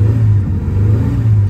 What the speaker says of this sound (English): there's me revving her up